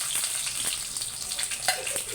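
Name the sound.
mustard seeds and cumin sputtering in hot oil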